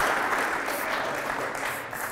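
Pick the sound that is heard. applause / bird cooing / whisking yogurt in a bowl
applause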